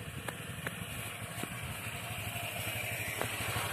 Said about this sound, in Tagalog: kawawa na yung motor ni Boy Boy.